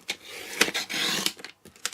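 Cardstock for a fancy fold card is trimmed to size, giving a few short, close rasping and scraping strokes separated by brief pauses.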